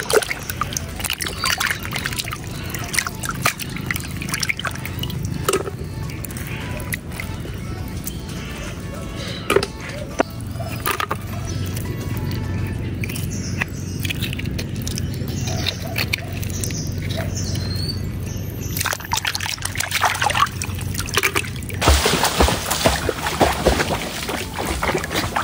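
Freshwater snails (susian) are rinsed by hand in water, making irregular splashes, trickles and small shell rattles at moderate level throughout.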